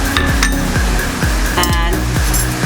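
Ice cubes clink and rattle as they drop into a mix of walnuts, stevia powder and cocoa powder, a close cluster of bright glassy taps over steady busy noise, with no talk.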